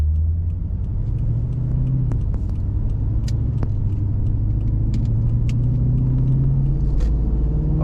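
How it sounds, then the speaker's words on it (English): A Lexus IS F sedan pulls away, its engine a steady loud low rumble that rises gradually as the car gets under way, heard from inside with no talking. "We'll just take it for a drive, let it settle in and see how we go."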